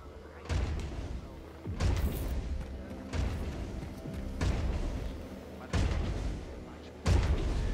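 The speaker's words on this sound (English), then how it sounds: "It sounds like they have a big-ass robot." Large robot stomping in Wolfenstein II, heavy booming footfalls landing about every one and a half seconds, each a deep thud with a rumbling tail, fairly loud and steady.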